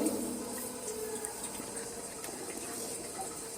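Water runs steadily from a tap in a kitchen to soak pangas fish, a continuous close splashing rush with no talking.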